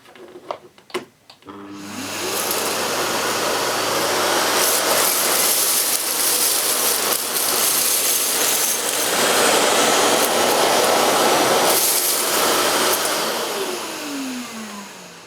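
A Hoover Silent Energy bagged vacuum cleaner runs on its turbo maximum-suction setting, its nozzle pushed forward and back across the floor; after a few clicks it starts with a steady, loud whoosh that swells and dips with each stroke, then fades out.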